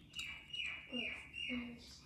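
A bird chirps indoors during tabletop toy building, giving a few short high tweets in two small bursts alongside faint background voice and handling sounds.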